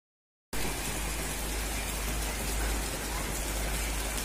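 Steady, dense rain falling outside, starting abruptly and continuing as a loud, even hiss with no talk.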